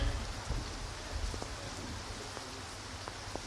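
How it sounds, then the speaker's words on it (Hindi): Heavy downpour at an outdoor event in Dumka, Jharkhand, a dense steady hiss of rain with occasional sharper drops and low thumps, no voices. "धुआंधार बारिश के बीच में"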